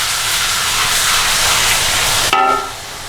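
Garlic ginger paste frying with onions in a pan makes a loud, steady, close sizzle and hiss that continues throughout, dipping briefly before resuming.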